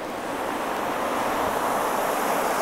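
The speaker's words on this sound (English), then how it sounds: "Get pounded by the waves." Saltwater surf pounding a rocky fishing shore, a loud continuous roar of breaking waves with wind noise and no talk.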